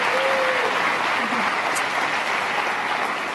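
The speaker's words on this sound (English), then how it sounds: "Can we please have one more round of applause for Kyle and all of the Chamber ambassadors who are serving as volunteers here today?" A crowd at Merced, California's 2019 State of the City event gives Kyle and the Chamber ambassador volunteers a round of applause, a loud, sustained wash of clapping that stays steady throughout.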